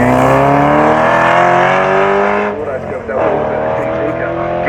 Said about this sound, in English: The V8 Porsche on its way.